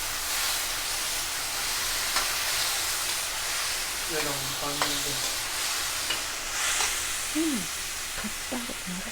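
Yogurt goes into sizzling biryani masala for a veg jackfruit biryani, and a steady frying hiss continues throughout with soft stirring scrapes and a few brief voice fragments.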